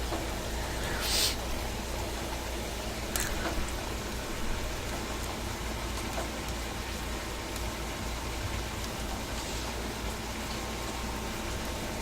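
Steady rain falls outside, a continuous hiss of drops with a few brief louder splashes, no voices.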